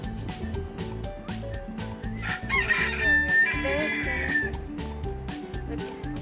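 A rooster crows at a zoo animal park, one loud drawn-out cock-a-doodle-doo in the middle of the recording over steady low rumbling background noise.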